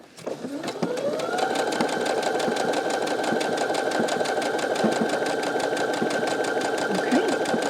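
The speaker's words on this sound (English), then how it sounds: "you're going to go ahead and push start. And it's going to automatically sew your button for you." A Brother SE625 sewing and embroidery machine stitches a buttonhole automatically, starting up and then running in a steady, loud, rapid mechanical whir with a fast stitching rhythm, close and continuous throughout.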